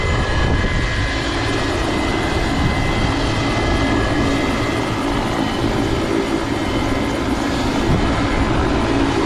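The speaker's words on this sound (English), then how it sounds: "What a nice helicopter." A helicopter's steady, loud engine and rotor roar fills the whole stretch, continuous and close, with no voices, at Goat Island, New Zealand.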